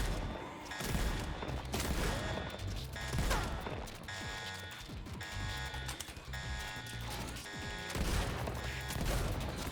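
Continuous video game gunfire in Borderlands 3: dense bursts of shots, impacts and clanking effects over a layered electronic soundtrack, loud and unbroken throughout.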